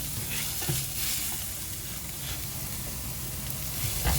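Onions and garlic sautéing in olive oil in a pan for seafood risotto, a steady close sizzle and crackle with a few stirring scrapes, no talking.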